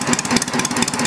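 Homemade four-cylinder engine built from Briggs parts runs close by with a steady, even chugging pulse and a fast mechanical rattle, loud and alone with no talk.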